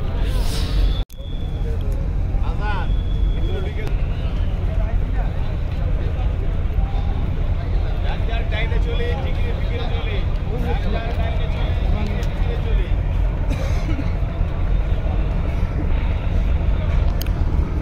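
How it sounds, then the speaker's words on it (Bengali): Passenger launch Kuakata 1 coming in to a river ghat before dawn during the Charmonai gathering, a steady low engine rumble and water wash under continuous crowd hubbub, with one sharp burst at the start. "অবশেষে কুয়াকাটা 1 লঞ্চ এই সাইডে চলে আসলো"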